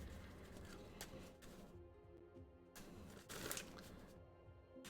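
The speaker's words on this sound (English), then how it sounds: "Got my shuffling deck, chat." A deck of cards being shuffled at a table, with repeated riffling bursts and bridging clatter recurring over about five seconds, close and fairly loud with no talking.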